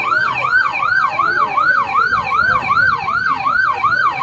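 An ambulance siren wails loudly and continuously in a fast, regular rising-and-falling pattern, close by, with traffic rumble underneath, at the scene of a deadly riot.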